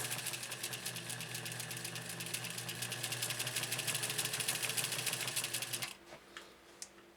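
A restored 1956 Atlas sewing machine runs steadily with a fast, even mechanical whir and rapid ticking for about six seconds, close and fairly loud, then stops abruptly, leaving only faint clicks.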